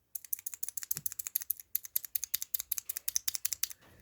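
Clicky blue mechanical keyboard switches, an old Komara board, typed in a fast steady run of sharp, close, evenly spaced clicks that stop briefly near the end.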